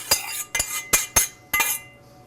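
A spoon clinks against a pan while stirring a melted mixture for Anzac biscuits, giving five bright metallic taps in quick, uneven succession, close and loud with no talking.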